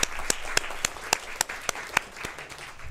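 An audience at a school board meeting applauding student athletes, heard as a few sharp, evenly spaced claps over a light patter of clapping, fairly distant and fading toward the end.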